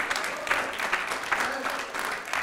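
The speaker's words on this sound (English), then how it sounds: "How many of you clap your hands this morning and give God real glory?" Church congregation clapping during a Sunday morning service, a steady wash of hands clapping at moderate distance with a voice speaking over it.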